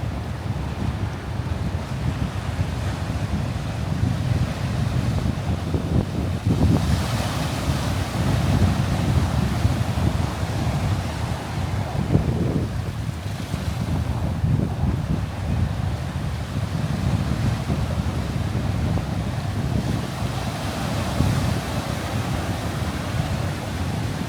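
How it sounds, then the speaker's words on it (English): Pacific Ocean waves crash through a rock crevice on the rugged Big Sur coast in California. The surf roars steadily and forcefully close by, with gusting wind buffeting the microphone. "See the waves coming crashing through this crevice as well."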